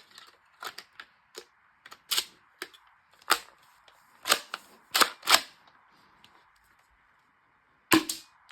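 Shell-ejecting Nerf shotgun blaster loaded with red shells and small darts, fired repeatedly: a string of sharp, snappy pops and plastic clacks, irregularly spaced, close and fairly loud with quiet gaps between.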